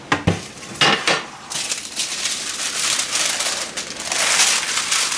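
A metal cookie sheet clatters and scrapes in a home kitchen, with a couple of sharp clanks at the start followed by steady rattling and handling noise, fairly close and loud, with no talking.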